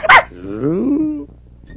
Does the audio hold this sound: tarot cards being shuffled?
no